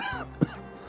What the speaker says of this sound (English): So smooth, but it's a dry cough.